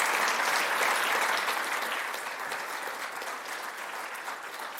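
A crowd at an awards ceremony gives a round of applause, loud dense clapping from many hands that slowly eases in volume while staying continuous to the end.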